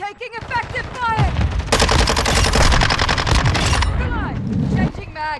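Sustained automatic gunfire from Call of Duty: Modern Warfare II, a loud close burst of rapid shots that rolls on for several seconds, framed by shouted in-game voice callouts before and after.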